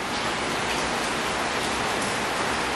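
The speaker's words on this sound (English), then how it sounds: "it is pouring rain" Torrential rain pouring during a sudden tropical storm in Turks and Caicos, a dense, loud, unbroken hiss of heavy downpour with no pauses and no voices.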